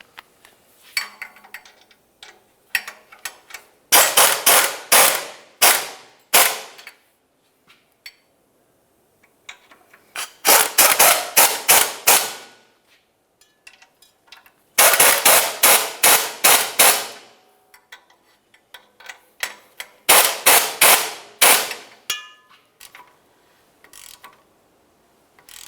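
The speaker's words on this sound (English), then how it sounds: "Now we can start tightening our exhaust catalytic converter to the manifold mounting nuts." Four separate bursts of ratcheting as a wrench draws up the mounting nuts joining the catalytic converter to the exhaust manifold on a 2000-2006 Chevrolet Tahoe, worked in a crisscross pattern, each burst a quick run of sharp clicks, close and clear with quiet pauses between.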